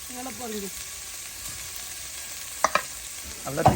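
Onions frying in a pan, stirred now and then, with a low sizzle and a few sharp scrapes and knocks toward the end, a brief voice-like sound early on.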